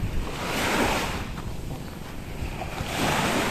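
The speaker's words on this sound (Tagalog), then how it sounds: "Ganda rin po ang dagat dito." Sea waves wash onto a white sand beach in slow swells that rise and fall, mixed with gusty wind buffeting the microphone, fairly loud and close, with no one speaking.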